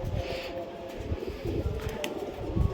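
Malbai pigeons coo in a dense, continuous murmur of low throaty calls, with scattered rustling and faint chirps over a steady background.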